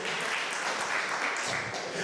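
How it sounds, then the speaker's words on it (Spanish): A church congregation at a Spanish-language retreat service claps in a dense, continuous burst of applause that holds steady for a couple of seconds, with some voices mixed in. "Alguien dé un aplauso de verdad al Señor."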